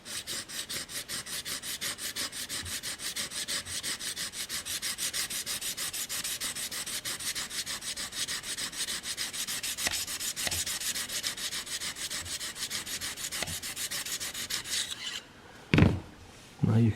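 An Annihilator single-bevel broadhead is sharpened on a 1200-grit stone, giving a steady, close rasping of rapid strokes that runs continuously for about fifteen seconds, then stops, followed by a few brief knocks and handling sounds.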